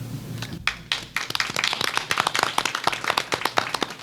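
A small audience at a state board of education meeting applauds, sparse individual claps building into a brief, fairly close round of clapping without talk over it.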